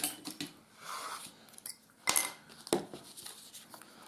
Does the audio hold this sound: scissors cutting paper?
yes